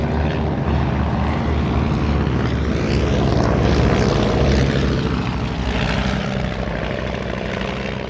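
A vintage Blackburn propeller aircraft with a 130-horsepower engine drones past at an air show, a loud, continuous engine roar that swells and fades slightly as it flies by.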